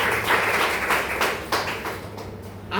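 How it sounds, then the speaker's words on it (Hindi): A church congregation claps to thank the preacher, a dense burst of many hands that thins out and fades toward the end, with a low hum underneath. "सेवक को धन्यवाद देंगे तालियां बजा के"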